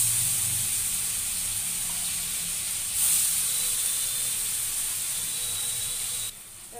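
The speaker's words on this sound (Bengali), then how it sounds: "দেখো বন্ধুরা, তেলটা গরম হয়ে গেছে। এখন পনিরগুলো ভেজে নেব।" Paneer pieces frying in a pan of hot oil, giving a steady, close sizzling hiss that holds level throughout and briefly swells near the middle before dropping off at the end.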